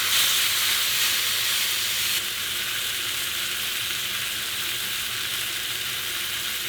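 Steady, loud sizzling of a 32 oz ribeye steak frying in a hot pan, a bright hiss that drops slightly in intensity after a couple of seconds.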